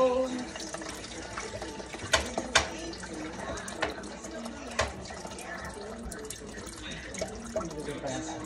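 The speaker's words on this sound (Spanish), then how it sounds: "Le echamos la agüita." Water runs and splashes steadily into a 12-cup coffee maker, with a few sharp clinks and knocks along the way, close by and fairly quiet.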